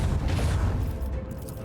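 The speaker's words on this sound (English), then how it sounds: "I want to hear the macro cannons roar." Macro cannons of a starship fire in the Warhammer 40,000: Rogue Trader game, a dense rumbling barrage of booms blurring into a continuous roar that eases off slightly toward the end.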